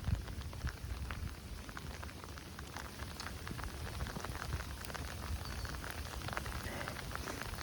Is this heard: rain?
yes